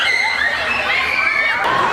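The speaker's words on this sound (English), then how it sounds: "I underestimated the amount of screaming fangirls that would be there" Crowds of fangirls at the VidCon convention scream continuously at high pitch, a loud, dense wall of shrieking that fills the whole stretch.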